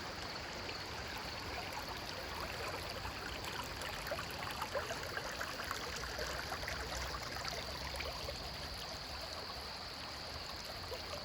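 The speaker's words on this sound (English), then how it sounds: "listening to the flow of this water" A stream flows steadily outdoors, a soft continuous babble and trickle of water heard from nearby at low level, unbroken and without voices.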